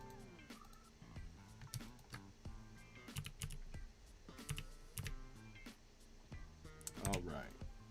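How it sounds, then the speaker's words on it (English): Arrow keys on a computer keyboard tapped repeatedly in short irregular clicks, fairly close and moderately loud, with a few clusters of quick presses while working in a web design editor. "just gonna use my arrow keys to push these up"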